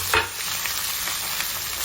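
Chopped onion, tomato and green chilli fry in a pan for a homestyle egg pulusu, a bright close sizzle with a quick stirring scrape near the start, no speech.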